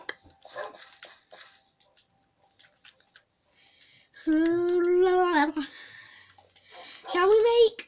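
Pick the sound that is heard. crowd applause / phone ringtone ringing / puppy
puppy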